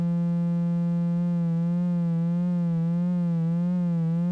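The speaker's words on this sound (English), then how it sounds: "our low frequency oscillator modulating the pitch of our oscillator" A synthesizer oscillator holds a steady buzzy tone whose pitch starts to wobble up and down in a slow, regular vibrato once a low-frequency oscillator modulates it. The tone is loud and alone, with no talk.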